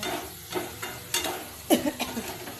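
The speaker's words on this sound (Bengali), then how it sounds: "এর মধ্যে আমি এই ডিমগুলো দিয়ে দেবো দিয়ে আমি ভালো করে কষিয়ে নেব" Eggs are stir-fried in a poppy seed masala, with a soft sizzle under scraping spatula strokes and a few sharper knocks against the pan, close and moderately quiet.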